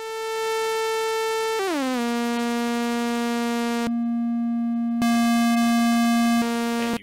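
Constant synthesizer tone built in TouchDesigner, a steady buzzy harmonic-rich note that glides down in pitch, cuts briefly, then resumes with a small step in pitch, loud and alone.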